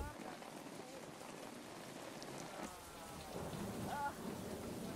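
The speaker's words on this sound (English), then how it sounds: "it rains in torrents for a month" Torrential rain pouring steadily, a dense broadband hiss of drops on surfaces with low rumbling underneath, faint overall and swelling slightly near the end.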